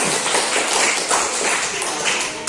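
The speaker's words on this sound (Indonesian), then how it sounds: "Kasih tepuk tangan teman-temannya yang sudah bertanggapan." Classroom applause, a dense burst of many hands clapping together in a room for about two and a half seconds, steady and fairly loud throughout.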